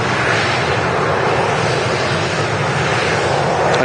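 An airliner moving at Manchester Airport, heard as a constant broad engine roar with a rushing, wind-like wash that holds steady and loud throughout, with no voices.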